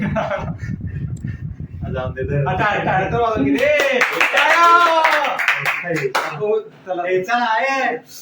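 A crowd of people clapping for a hostel vlog's cameraman, a short dense burst of applause at the start before voices take over and talk continues loudly.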